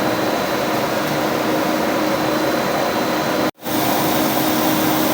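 An ISM-10 grain separator machine sorting buckwheat for sowing, a loud, steady, close mechanical roar and airy rush with a brief dropout partway through.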